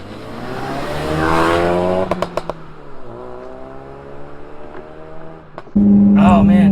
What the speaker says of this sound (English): The crackles and pops from the exhaust are just awesome.